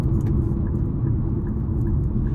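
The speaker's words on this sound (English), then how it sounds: "I could hear the road" Steady low road rumble and tire noise fill the cabin of a 2025 Nissan Kicks SR on the move, a continuous dull drone with no talking.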